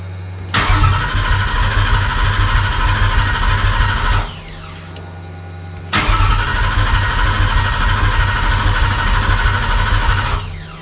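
A Cobra Daytona replica car's engine cranks loudly in two long attempts, each a steady mechanical churning lasting several seconds, separated by a brief pause, without the engine catching.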